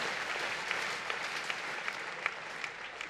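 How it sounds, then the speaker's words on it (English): Church congregation applauding together, a steady dense wash of clapping with a few sharper claps standing out, fairly faint and distant throughout. "Clap for the miracle working God."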